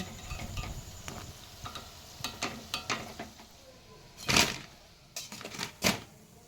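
Ripe mango fritters fry in hot oil with a faint, soft sizzle, punctuated by irregular crackles and a few sharper pops and clinks close by.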